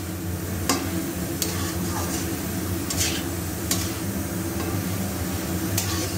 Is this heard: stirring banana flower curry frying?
yes